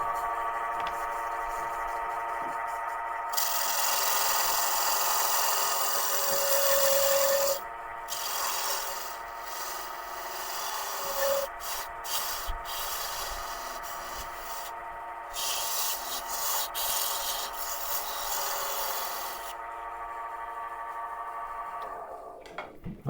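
A wood lathe spins continuously while a tool cuts a taper into a turned wooden dibber, a steady broadband rasping hiss that shifts in tone as the cut moves, with a brief pause near the middle and no talking.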